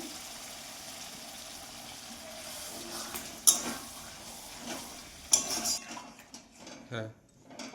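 Marinated chicken sizzles and fries in a pan for chicken rezala, with a steady crackling hiss and occasional clinks of a utensil stirring against the metal. The frying fades near the end, leaving sparse scraping.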